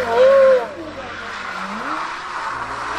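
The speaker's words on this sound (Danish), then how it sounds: "En fuldstændig vanvittig motorlyd." A Porsche Carrera GT engine, from 2004 on, gives a loud, piercing high note that peaks briefly, then drops back and climbs again in a smoother sweeping rise of pitch.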